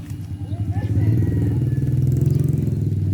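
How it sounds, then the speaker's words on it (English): Motorcycles roll past during a bike run along a main street, a loud, steady low engine rumble that swells and holds throughout, with voices over it. "We got a bike run going on."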